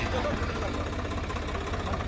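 A farm tractor engine runs hard, giving a steady, loud low rumble with a knocking mid-range drone that holds evenly throughout.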